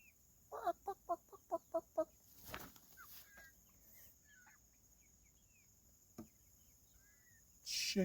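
A string of about seven sharp, evenly spaced clucks comes from backyard chickens in Michigan, followed by quiet stretches with faint distant bird chirps and a brief rustle near the end.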